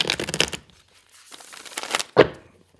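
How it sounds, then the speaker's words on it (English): A deck of tarot cards is shuffled close by, with bursts of papery riffling and crinkling, a pause, another softer riffle, then one sharp slap as the deck settles. "shuffle up the cards here."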